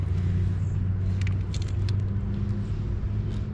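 Jeep 3.6-liter V6 idling steadily in a mid-size three-row crossover, a smooth low engine hum with a constant rumble and no voices over it.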